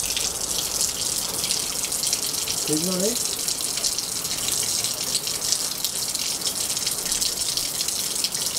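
A public water tap overflows with a steady, loud gush of running water that fills the whole stretch, while a person speaks briefly over it.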